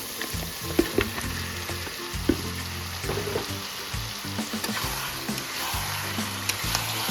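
Pieces of desi chicken, about a kilo, go into hot frying masala in a village-style curry pot, a continuous loud sizzle broken by thumps and clatters of meat and spoon, close by with no talking.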